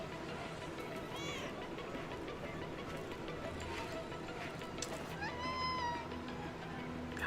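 Mournful cat meows rise over a dense, steady bed of music and ambience in a video game trailer, several drawn-out calls with the clearest near the end.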